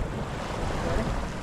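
Big ocean waves and wind roar steadily around a small fishing boat drifting at sea, a dense close wash of surf with wind buffeting and no speech.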